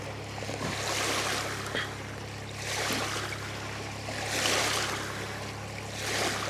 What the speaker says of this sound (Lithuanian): Kokios bangos upiai, ne juokas. Ne, iš tikrųjų valtis praplaukė todėl.